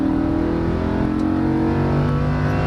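A Lamborghini Huracan LP610-4 accelerates on a racetrack, its engine a loud, continuous, steadily rising drone heard from close by, with no speech over it.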